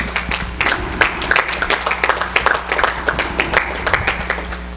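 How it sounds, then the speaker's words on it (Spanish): A church congregation claps together in praise during a Spanish-language sermon, a dense, fairly loud burst of hand claps with uneven rhythm, no voices over it. "darle un aplauso al Señor"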